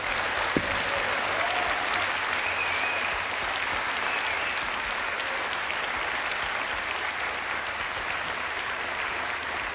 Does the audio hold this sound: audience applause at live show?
yes